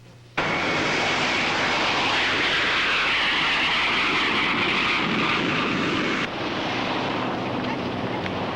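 Beechcraft airplane in flight, a steady loud propeller-engine drone with wind rush that starts abruptly and drops slightly in level near the end, heard alone without talking.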